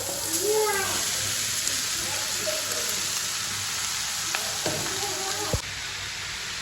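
Mango pieces fry and reduce in a hot pan with a steady, dense sizzling hiss, while a voice talks faintly over it.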